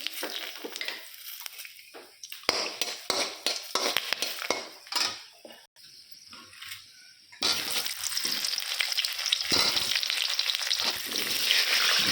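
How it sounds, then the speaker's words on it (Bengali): Meat frying in a pan on a home stove for biryani, a loud crackling sizzle broken by scraping and clinking of a metal spoon stirring against the pan, with the frying surging steadily toward the end and no one talking. "মাংসটা হালকা ভাজা হয়ে যাক"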